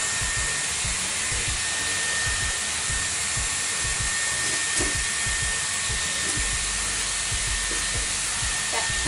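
Dyson Airwrap blowing air while curling hair extensions, a constant loud whooshing rush with small handling knocks and bumps underneath, no speech.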